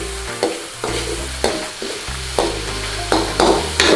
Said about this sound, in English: this is a very quick stir fry, just to soften them up